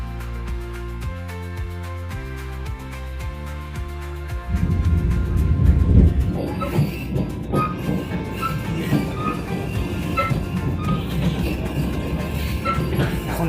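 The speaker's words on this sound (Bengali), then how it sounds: "দেখি ট্রেন ছুটে চলেছে রূপনারায়ণ নদীর উপর দিয়ে" Music plays at first, then the Howrah to Puri Vande Bharat Express runs over the Rupnarayan river bridge, heard from on board as a loud, rumbling rush with rhythmic rattling and clatter that stays strong to the end.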